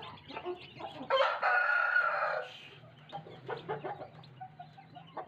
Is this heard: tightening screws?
no